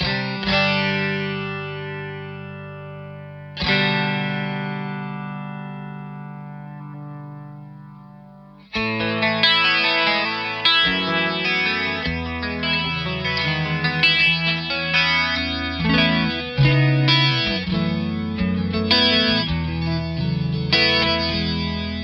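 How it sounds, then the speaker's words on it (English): Distorted electric guitar chords through the chorus effect of a Boss ME-5 multi-effects unit, shimmering and wavering, a couple of long ringing strums followed by busier, loud playing. "So 1 is obviously chorus."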